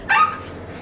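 A dog lets out a single short, high yip or whimpering bark, close and loud, then quiet.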